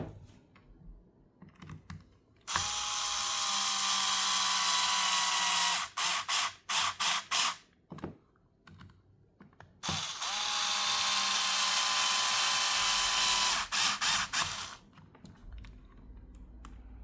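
A Milwaukee M12 cordless ratchet tightens T10 screws in two long buzzing runs of several seconds each, broken up by short stuttering bursts and quiet gaps, close and loud.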